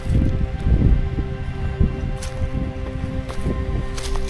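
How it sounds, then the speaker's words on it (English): Wind in the pines on a late-winter Taum Sauk ridge, a steady broad rushing and rustling with gusty low rumble on the microphone, close and continuous throughout. "Wind in the pines is nice."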